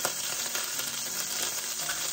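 Pork chop frying in melted bacon grease in a pan, a steady close crackling sizzle that runs unbroken with no voices.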